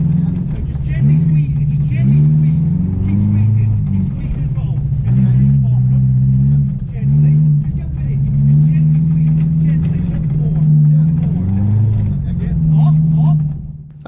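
A real rally car driven on dirt, its engine droning loud and steady with rising and falling revs as the throttle is worked, close and continuous for the whole stretch.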